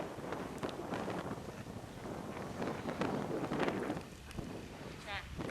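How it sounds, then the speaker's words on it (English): Gusty wind buffets the microphone outdoors in the Newlands Valley on the way up to Cat Bells, a steady rushing bed with a few louder gusts. "It's windy out here."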